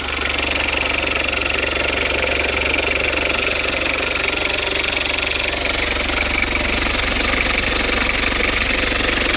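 A Citroën Berlingo engine with a freshly fitted, leak-free exhaust idles steadily with a low, continuous rumble and faint mechanical ticking, unchanging throughout.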